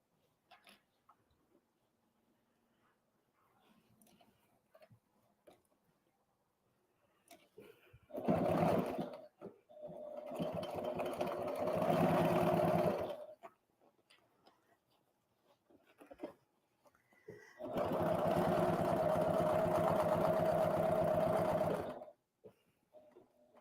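An HD9 sewing machine stitching through leather runs in two steady bursts of several seconds each, close and loud, separated by a short pause with quiet handling noise.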